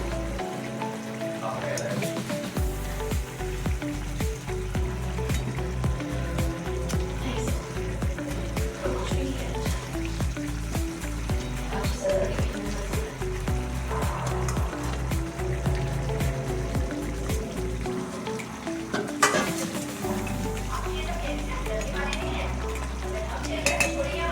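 Koi fish going into a pan of frying onion and tomato masala, a continuous close sizzle with frequent spatula stirs, scraping and metal knocks against the pan.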